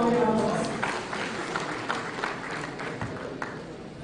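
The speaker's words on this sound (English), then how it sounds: "Please give him another round of applause." Audience applause at an engineering institution's presidential investiture ceremony, a dense sustained clapping that fades slightly over a few seconds, with some voices mixed in.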